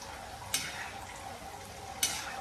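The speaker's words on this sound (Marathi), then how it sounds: "अशा गोल्डन गोल्डन तळून घ्या शंकर पाळ्या." Shankarpali snacks frying in hot oil with a soft, steady sizzle, quiet and close, broken by two sharp clinks of a utensil against the pan.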